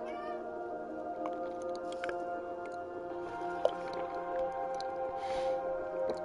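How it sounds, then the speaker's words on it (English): Hungry house cats meowing nearby, a string of drawn-out plaintive meows and yowls over a quiet room hum, with no talking. "Oh, my kitties are getting hungry."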